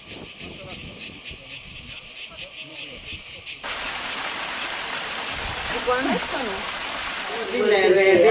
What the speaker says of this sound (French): le bruit incessant des abeilles et le chant entêtant des cigales.